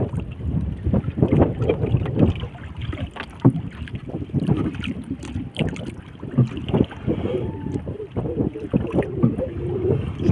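Oars dip and pull as a small rowboat is paddled on the open sea, with steady gusts of wind buffeting the microphone and water sloshing close by, the strokes irregular and no voices heard.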